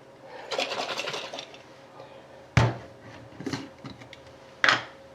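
Boiled eggs shaken hard inside a closed container with a little water, giving a stretch of dense rattling and sloshing followed by a few sharp knocks and shorter bursts, close and fairly loud.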